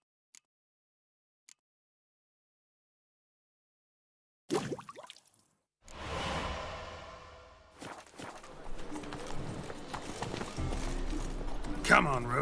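Roach, a horse in The Witcher 3 video game, clip-clops along at a steady gait with hooves thudding in a fast rhythm, loud and close, after a few seconds of near silence broken by faint ticks.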